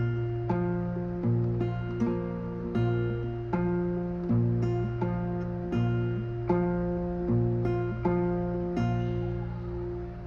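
Acoustic guitar fingerpicking a song's intro pattern, plucking thumb, ring and index in a steady repeating rhythm, close and clear with no talking.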